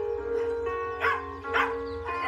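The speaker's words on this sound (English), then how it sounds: "it can help with drain out all the barking around the kennel environment" Several dogs barking in a kennel, with repeated sharp barks over a steady background of tonal music, close and fairly loud.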